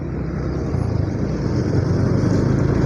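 Steady stream of cars on a road between Banjarbaru and Martapura, heard from a moving motorcycle: a continuous loud, dense rumble of engine and tyre noise with no clear gaps.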